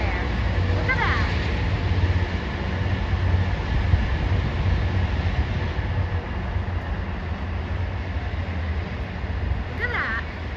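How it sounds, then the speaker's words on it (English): A long Union Pacific freight train rumbles past at a distance in a steady, continuous roar, with faint high squeals near the start and end. "There's a freight train over there."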